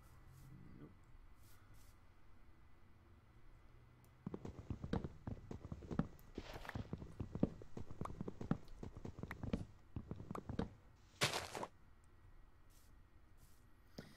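Horse hooves in Minecraft clop in a quick, irregular rhythm for several seconds, faint and slightly distant, over quiet background hum.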